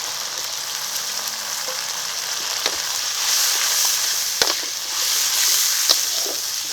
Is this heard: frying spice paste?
yes